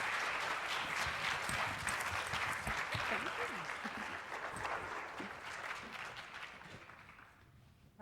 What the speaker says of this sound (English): Won't you please join me in giving a warm round of applause to this year's featured speaker, Naila Suad Nasir.